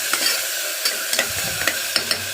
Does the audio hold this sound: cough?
no